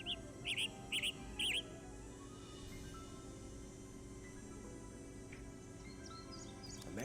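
A Western tanager call from the Nancy Drew game Ghost Dogs of Moon Lake plays as three short, burry chirps in quick succession near the start, soft over a quiet hum, then mostly faint background.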